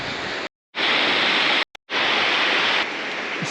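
A waterfall beside an old canyon road in Jermuk, Armenia, roars as a loud, steady broadband rush of falling water, broken by two brief gaps of silence before resuming.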